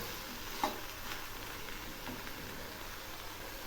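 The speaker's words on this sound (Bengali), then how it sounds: "শাপলাগুলো আবারও একটু নেড়ে দিচ্ছি।" Water lily stems being stirred in a cooking pan give a faint, steady sizzle, with one small scrape of the spoon early on and no talking.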